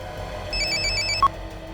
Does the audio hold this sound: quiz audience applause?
no